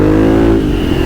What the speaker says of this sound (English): a little snap and crackle when we let off the gas, and we're going, because we got a V-twin